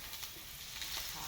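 Eggplant frying in oil in a pan, a soft, steady sizzle heard faintly and briefly with no talk.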